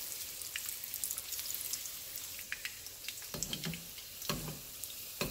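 A shrimp egg foo young patty frying in oil at about 345 to 350 degrees gives a soft, steady sizzle. Scattered sharper pops and spatters stand out from time to time, and no one is talking.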